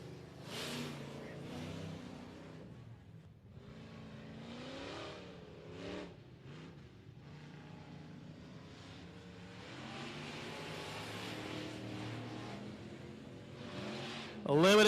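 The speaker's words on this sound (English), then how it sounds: "Limited Modifieds on the track right now." Limited Modified race cars lapping the 105 Speedway oval, engines rising and falling in repeated revving passes at moderate distance, with a voice talking over them at times.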